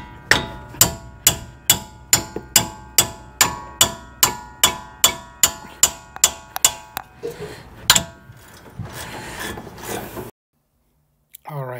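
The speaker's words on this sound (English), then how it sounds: "with the hammer, just go ahead and hit it" Sharp hammer blows strike a tool to break a wheel bearing bolt loose, about eighteen evenly spaced metallic clanks close up, then scraping and brief rustling before silence.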